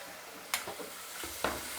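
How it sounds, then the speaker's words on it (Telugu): Chopped tomatoes going into sizzling ginger garlic paste for an egg curry, a short close hiss of frying with two sharp stirring scrapes and no talking. "ఇప్పుడు టమాటా కట్ చేసుకుని ఇది వేసుకుందాం."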